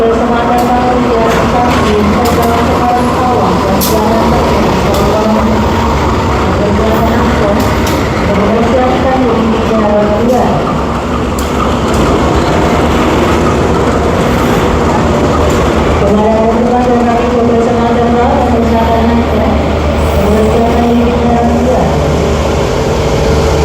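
Inside a business-class Ranggajati passenger train nearing Kroya station, a loud, continuous rumble and rattle from the rails and carriage fills the whole stretch, with occasional faint voices.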